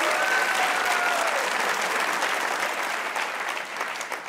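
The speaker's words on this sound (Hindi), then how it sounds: "भाई एक दफ़ा तालियाँ" Steady studio audience applause on a Pakistani comedy talk show fills the whole stretch, dense and sustained, tapering slightly toward the end with a faint murmur of voices.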